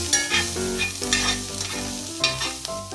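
Onions and peppers frying in a skillet for a Mexican breakfast hash with cooked potatoes, a steady close sizzle with stirring scrapes and no talking.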